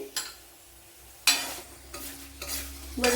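Papadams puffing up as they fry in plenty of hot oil, a few bursts of bubbling sizzle rising and fading close by, with no talk.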